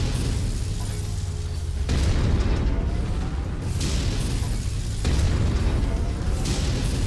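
PPC weapon fire from a mech in MechWarrior 5, heavy booming discharges and blasts at intervals over a rumbling low battle drone, loud and close.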